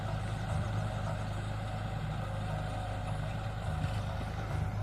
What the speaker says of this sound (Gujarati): ટ્રેક્ટર જાય છે ખેપા આંકતું.